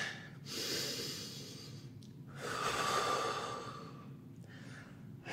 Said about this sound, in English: Legs back up, 2 more breaths.